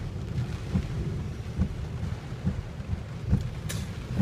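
Rain pours onto a flooded street in a steady hiss, with a low, rumbling undertone and occasional sharper splashes, close by and alone without any talking.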